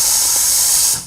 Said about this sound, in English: the first thing I remember to do is to purge the steamer by pressing either of the two buttons